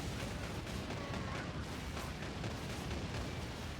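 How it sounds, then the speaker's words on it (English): Heavy autocannon fire in Warhammer 40,000: Space Marine 2, a dense, continuous roar of rapid booming shots and explosions blending into a steady rumble, loud and unbroken with no speech. "Behold, the autocannon."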